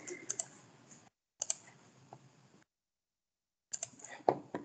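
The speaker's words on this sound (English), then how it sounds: "just while Anthony's typing in" Light computer-keyboard typing during an online Microsoft 365 meetup, soft irregular clicks that come in short bursts with silent gaps between them, with faint voices in the background.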